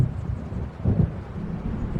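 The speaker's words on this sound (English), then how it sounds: "It seems there's a storm coming." A rumble of storm thunder in the PS5 game Alan Wake Remastered, a low, muffled roll that swells near the middle over a windy background, heard alone.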